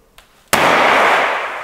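A confetti cannon loaded with gold and silver streamers fires with a sharp, loud pop after a faint click, followed by a sustained rushing hiss as the streamers blast out at a carnival-style test.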